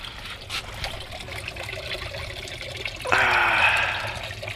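Water trickling and draining from an aquaponics grow bed, faint dribbling at first, then a louder, closer gush of pouring water starting partway through and fading slightly toward the end.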